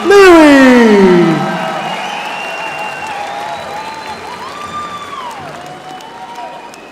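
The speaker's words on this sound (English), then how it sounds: "Let's give her another big round of applause, ladies and gentlemen." A crowd at the Gathering of Nations powwow bursts into loud applause with whoops and cheers, peaking at once and then tapering into sustained clapping with whistles and an announcer's voice over the top.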